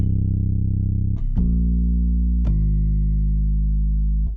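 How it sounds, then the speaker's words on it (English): A warm vintage tine bass preset from Keyscape plays four low, sustained notes in sequence, each with a soft bell-like attack, alone and up close. "Got this vintage vibe Tyne bass from Keyscape."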